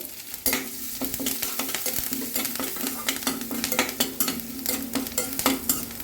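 Chopped green chillies and curry leaves sautéing in a pan with asafoetida and turmeric for mini rava idli, a close crackling sizzle under quick, repeated scraping stirs, steady throughout with a faint underlying hum and no voices.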